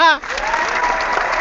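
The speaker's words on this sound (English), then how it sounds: "You get another round of applause." Brief audience applause in a podcast setting, a steady patter of clapping right after a short spoken voice, moderately loud throughout.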